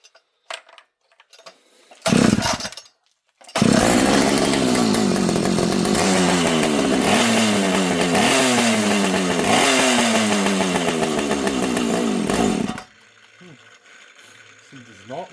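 A gas chainsaw is pulled to start without priming, with a couple of short rough bursts, then catches and runs loud for about nine seconds, revving up and down in waves before cutting out to quiet.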